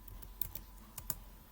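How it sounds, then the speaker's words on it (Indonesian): Keystrokes on a computer keyboard during programming work, a handful of sharp clicks at an uneven pace ending with firmer presses like the Enter key, close and fairly quiet over faint background hum. "Lalu kita tekan enter"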